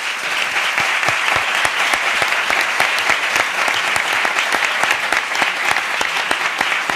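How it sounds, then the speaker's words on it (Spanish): Audience applause at the close of a European Parliament election debate event, a steady patter of individual claps from a moderate-sized crowd, even and continuous throughout. "Yo les pediría a ustedes un aplauso tanto para la organización como para los intervinientes."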